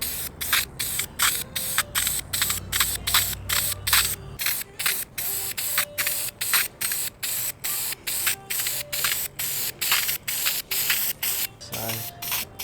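Filter oil is sprayed onto an Infiniti G37 air filter in a long run of short, evenly spaced hissing bursts, close and crisp, with a few faint mechanical clicks.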